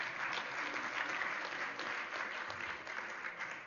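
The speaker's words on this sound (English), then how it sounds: "Give that guy a round of applause." Audience applause at an E3 Africa 15th anniversary gathering in Phoenix, Arizona, a dense, even wash of clapping from a crowd that carries on without pause, heard from some distance.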